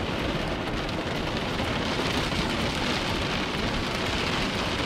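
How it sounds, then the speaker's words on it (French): Steady rain falling during a storm around a camper van in Greece, a dense continuous hiss of drops drumming close by on the surface with no voices. "D'ailleurs il commence à pleuvoir déjà."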